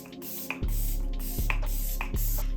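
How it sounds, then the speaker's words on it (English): e.l.f. Stay All Night micro setting mist sprayed over a face: three quick pump sprays close to the microphone, each a sharp hiss with a click at the start, spaced evenly about three quarters of a second apart. "I'm gonna use my e.l.f. Stay All Night micro setting mist and just spray my whole face down"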